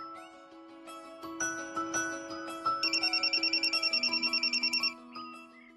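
A phone ringtone plays a looping electronic melody, with a rapid repeating high trill in the middle of the ring. It is close and clear, with no voices over it.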